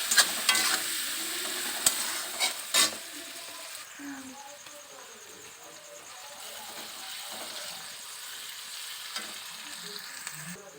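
Salted onions fry and are stirred in a pan for a Bengali chicken dish, with scraping stirs and clatter early, then a steady sizzle with occasional knocks.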